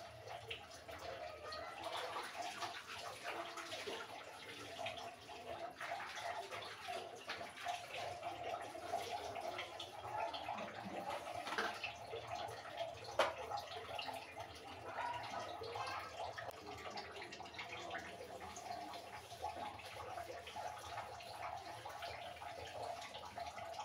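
Water runs steadily from a tap during a deep clean of a kitchen, a continuous splashing wash heard alone throughout at moderate level.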